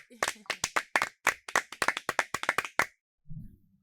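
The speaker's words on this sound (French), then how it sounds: "Sous vos applaudissements," A group at a school ceremony claps in a fast run of sharp, irregular hand claps for about three seconds, ending in a brief low murmur.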